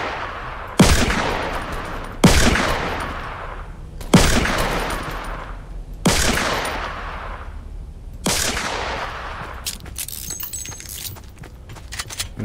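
Five loud, evenly spaced gunshots in a Roblox Fortnite-style video game, each a sharp crack with a decaying tail, followed by a brief scatter of rapid clattering fire.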